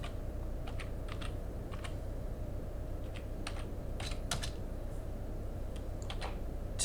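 Keystrokes tapping out on a computer keyboard while entering OSPF router configuration commands, a steady run of light, quick clicks close by over a low constant hum.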